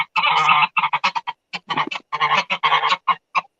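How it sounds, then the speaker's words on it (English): Geese on a farm honking in a loud, close series of repeated calls, with short bursts running into each other in an uneven rhythm and no one talking. "Yeah, those are geese."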